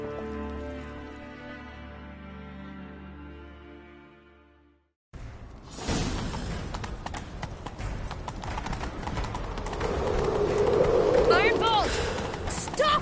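Horse hooves clip-clopping in a steady galloping rhythm in The Witcher 3, following a stretch of game music, with rising wind and movement noise and a character's voice heard partway through.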